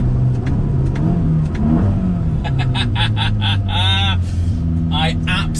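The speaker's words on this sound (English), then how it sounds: "the downshifts under fairly heavy braking" A Ferrari Roma engine blips and drops through the gears under fairly heavy braking, loud and close, with crackling pops and rumble between the rev spikes.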